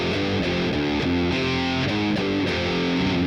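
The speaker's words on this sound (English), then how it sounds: "I'm using the harmonist, one voice, got it in unison" Electric guitar played through a Boss Katana Mk2 amp with the harmonist effect set to one unison voice, plus delay and plate reverb, giving a thick, distorted chordal riff that rings steadily and alone.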